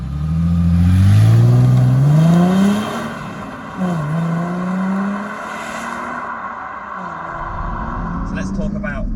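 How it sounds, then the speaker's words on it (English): Chrysler Crossfire engine revving while driving, rising pitch sweeps climbing through the gears, loud and close, with a person talking over it at times. "that engine is really strong. You can probably hear it. It sounds really tuneful."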